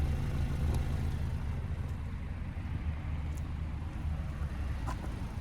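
A 2024 GMC Terrain SLE with the 1.5-litre turbo engine idles steadily, heard close to the exhaust outlet beneath the vehicle as a continuous low rumble with faint ticks and no talk.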